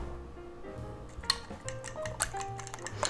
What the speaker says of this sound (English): And we'll stir that up.